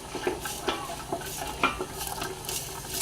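A wooden spoon stirs a pot of meatball soup with softening onion, carrot, parsley root and celery root, giving repeated scraping knocks and clinks over a soft, steady sizzle, close and moderately loud with no talking.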